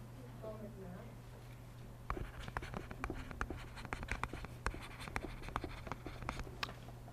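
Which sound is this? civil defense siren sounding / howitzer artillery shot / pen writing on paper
pen writing on paper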